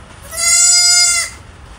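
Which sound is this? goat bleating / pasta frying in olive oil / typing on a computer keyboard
goat bleating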